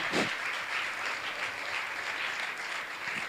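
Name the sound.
audience applauding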